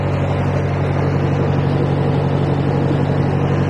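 Narrowboat diesel engine in forward gear with revs raised at a lock, giving a loud, steady low throb that runs evenly throughout.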